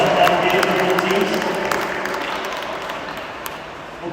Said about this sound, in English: just a round of applause for a great game for both teams making it to the final here